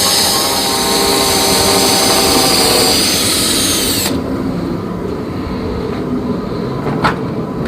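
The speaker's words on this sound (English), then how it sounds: "I'm going to pre-drill my holes and then use corrosion resistant screws." A power drill pre-drills holes while framing the back wall of a Lance truck camper rebuild: a loud, close, high-pitched whine runs for about four seconds, drops off abruptly, and is followed by quieter room noise and a single click.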